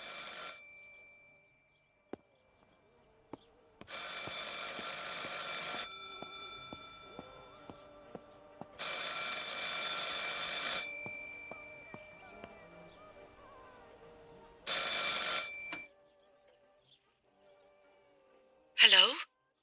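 A telephone rings in the Martha Is Dead video game, repeated bursts of bright, rattling ringing separated by silent gaps, fairly close and loud, with a brief sharp sound at the end.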